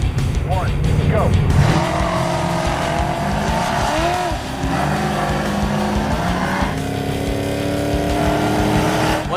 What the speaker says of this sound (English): So for our final drag race, we turned the course around.